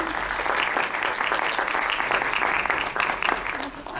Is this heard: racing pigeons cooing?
no